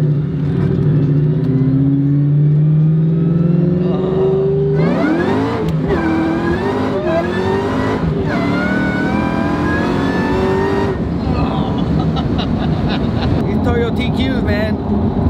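A Ford SVT Cobra Terminator, fitted with a pulley upgrade, accelerates hard in first gear. The loud engine note climbs steadily, then rises through rapid rev sweeps. Excited speech overlaps the roar.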